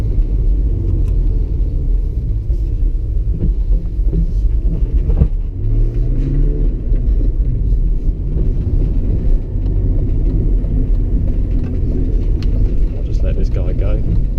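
A drift car with a short shifter pulls away: a loud, deep engine rumble continues throughout with a brief rising rev partway through, and a person talks over it.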